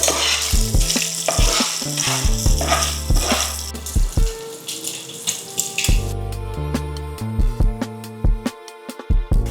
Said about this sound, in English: I'm going to toast my turkey bacon